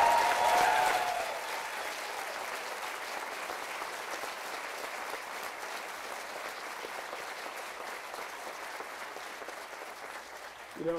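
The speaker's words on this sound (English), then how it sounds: "Let's give all our veterans another great round of applause." A Veterans Day crowd at a county government ceremony applauds military veterans with a long, even round of clapping that is loud at first and then settles into a steady roar.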